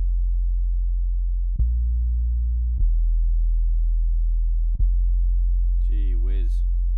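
A sampled F1 bass note from a drum kit plays as a deep, steady synth tone, retriggered three times in a row at an even pace, followed by a brief wobbling chirp at the end.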